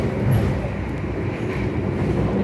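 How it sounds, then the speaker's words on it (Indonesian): Sawunggalih passenger train pulling out of Cirebon station, a steady low rumble and rolling hum from the rail wagons, continuous and fairly close with no voices. "kereta api Sawung Gali sudah diberangkatkan dari stasiun Cirebon tepat pada pukul 10:26"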